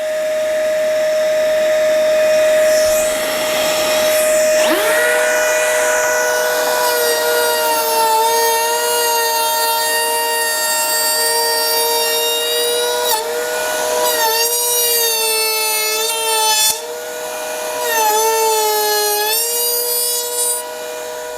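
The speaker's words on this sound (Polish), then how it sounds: "Odpalamy frezowanie." A cordless hand router mills wood with a vacuum hose drawing off the dust, a loud, continuous high whine whose pitch dips and recovers as the bit bites, running alone without talk.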